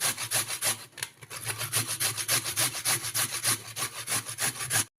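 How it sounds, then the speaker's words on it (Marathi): Carrots for carrot halwa being grated by hand, a close run of quick, rhythmic scraping strokes that stops abruptly at the end. "अशा प्रकारे मी सर्व गाजर किसून घेते"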